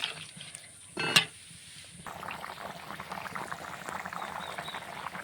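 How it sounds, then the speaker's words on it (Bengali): Mutton curry broth simmering thick in a cooking pot, a steady close bubbling after a brief clatter near the start, no voices. "মাংস কষিয়ে ঝোল দিয়েছিলাম, জলটা সুন্দরভাবে থকথকে ফুটে গেছে"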